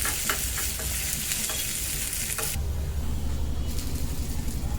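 Onions sautéed with mustard seeds and curry leaves sizzle loudly and continuously up close, with scraping stirs, before the sound shifts to a quieter, lower sputter.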